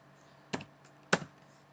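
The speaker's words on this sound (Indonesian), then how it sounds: "Kita tinggal klik enter" Two distinct key presses on a computer keyboard, sharp isolated clicks about half a second apart against a quiet room.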